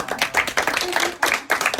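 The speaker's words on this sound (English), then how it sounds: "Give her a round of applause." Visitors on a guided tour at the Mystery Spot in Santa Cruz clap briefly in a few quick, uneven bursts from a small group, moderately near and loud, with light chatter and voices mixed in.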